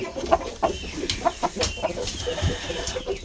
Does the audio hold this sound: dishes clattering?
no